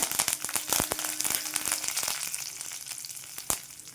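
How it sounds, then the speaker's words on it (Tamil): Dried red chilies and curry leaves fry in hot oil with popping mustard seeds, giving a bright continuous sizzle with sharp crackles and pops close up, no talking. "கடுகு நல்லா பொரிஞ்சதுக்கப்புறம் மூணு காஞ்ச மிளகாய் கிள்ளி போட்டுக்கோங்க கொஞ்சம் கருவேப்பிலை"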